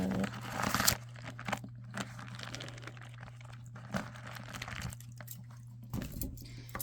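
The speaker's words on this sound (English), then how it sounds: "So I love the sounds of that paper." Soft, crinkly rustling of old paper book pages being handled up close, with irregular crisp rustles and turns over a low steady hum.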